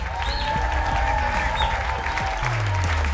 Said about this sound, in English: Please, give it up for Siddiq, everybody